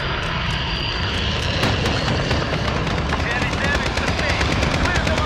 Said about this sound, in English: Still got that VTOL.